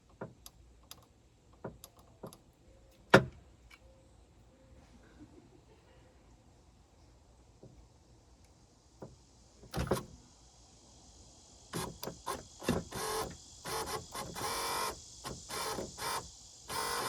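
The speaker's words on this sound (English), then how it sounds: "we're going to take the wires to go to the motor and see if we can't get this thing, get the window to come down" Power window motor in a Chrysler Town & Country, wired directly during a window regulator install, whirs in bursts in the second half, after scattered clicks and taps from working on the door.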